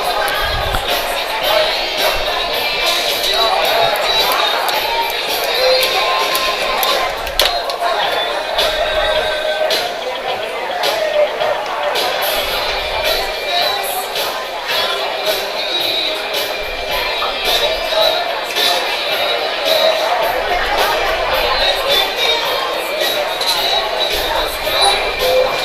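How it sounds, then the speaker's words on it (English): Dense murmur of a sizable crowd at a Friendswood high school baseball playoff game, continuous chatter and scattered calls all the way through, with an announcer speaking over it. "Pretty good crowd here for Friendswood."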